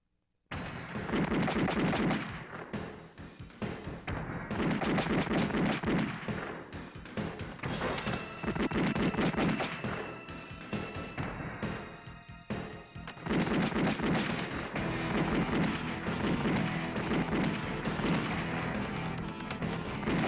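Video game gunfire, dense and continuous, with rapid shots and booming blasts layered over one another, loud for nearly twenty seconds with a few brief dips.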